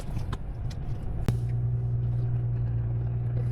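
Truck pulling away after unloading a load of biscuits in Norway, a steady low engine drone that settles after a brief knock and holds evenly, moderately close.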